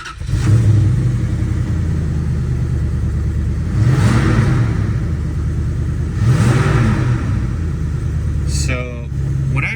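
A Dodge Dakota R/T pickup with a 5.9L V8 cranks and fires, then idles with a loud, steady low rumble and a couple of brief revs swelling in the middle.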